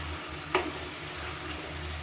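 Chicken pieces fry quietly in a pan over low heat with a soft continuous sizzle and a single brief clink or stir near the start.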